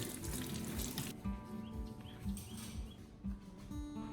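Running tap water splashing over lemons being washed in a sink, a steady close rush with light intermittent splatters and handling noises.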